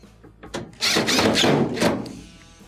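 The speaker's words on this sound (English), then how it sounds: "Next, switch over to your Phillips bit. Reattach your 2 screws inside." A drill fitted with a Phillips bit drives screws into a Maytag dryer. It makes a brief close whirring burst of about a second with a few light knocks around it.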